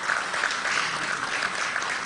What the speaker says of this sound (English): Let us give the President a round of applause.